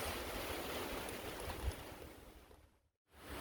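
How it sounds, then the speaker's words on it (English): Strong gusty wind roars during a rainstorm, a broad steady rushing that swells briefly, then cuts out near the end before returning. "Big gusty winds."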